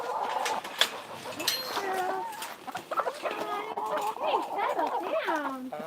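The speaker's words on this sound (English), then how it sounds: "There's the chickens." A flock of chickens clucks and squawks continuously at close range, busy overlapping calls with people talking over them.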